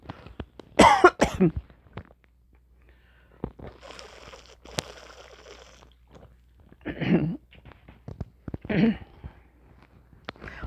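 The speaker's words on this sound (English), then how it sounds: "Sorry about all the coughing." Several harsh coughs in bursts, close and fairly loud, with quieter rustling between them and no talking.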